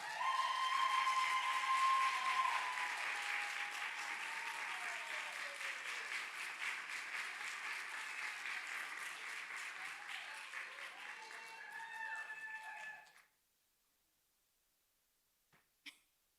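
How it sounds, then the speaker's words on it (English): An audience at a physician assistant class of 2025 end-of-program ceremony claps in a sustained round of applause for about thirteen seconds before it stops abruptly, leaving near silence with a couple of faint knocks. "Another round of applause."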